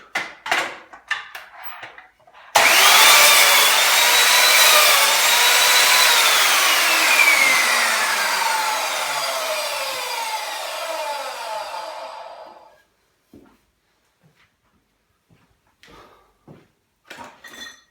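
An Evolution Rage3-S sliding compound mitre saw cuts through oak hardwood in one long, loud, close whining cut of about ten seconds that slowly winds down, with brief handling knocks before and after.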